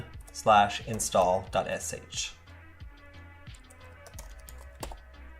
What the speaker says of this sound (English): Then finally we'll type /install.sh.